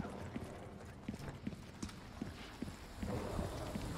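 Donkey hooves clip-clop in a steady walking rhythm in the video game Resident Evil 4, with soft regular knocks over low ambient game noise.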